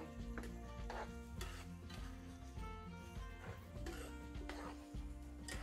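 Halved garlic cloves fry in a pan for a fish curry, a steady sizzle with stirring and scraping under strong background music throughout.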